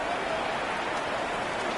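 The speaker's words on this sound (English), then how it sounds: "The rain set to continue as we are underway in the second half." Rain falls steadily during a televised football game's second half, a dense even hiss filling the background with no breaks.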